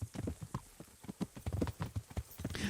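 Horse hooves clip-clop in a quick, uneven rhythm in Kingdom Come: Deliverance, a medieval game, the footfalls fairly close and moderately quiet with no talk.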